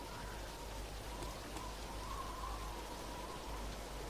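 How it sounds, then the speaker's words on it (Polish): Rain falls steadily in the survival video game DayZ on the Namalsk map, a soft, even hiss of drops on surfaces with no voices over it. "A, deszcz pada sobie."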